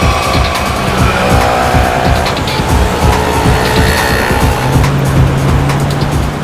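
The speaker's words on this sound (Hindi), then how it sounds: "गाड़ी तेज चलाओ।" A car speeds along in a chase, with a continuous loud engine roar and tyre noise filling the scene, near and intense throughout.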